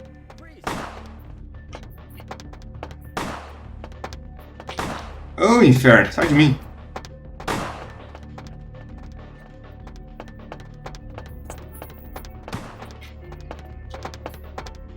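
Gunfire in Vampire The Masquerade Bloodlines: sharp single shots spaced a second or two apart, with a brief louder burst of rapid shots near the middle, over a low game hum while a player talks.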